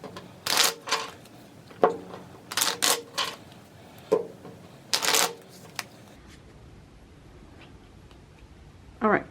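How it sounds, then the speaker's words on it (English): A deck of playing cards is shuffled by hand in several quick riffling bursts, each a crisp ruffle lasting about a second, with short pauses between and a final brief riffle at the end. "I do need to shuffle this deck."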